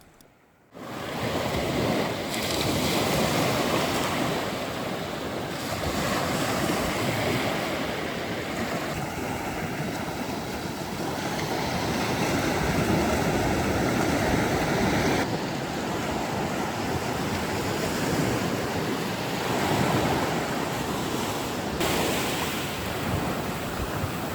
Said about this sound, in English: With the gentle waves rolling in and making a noise on the beach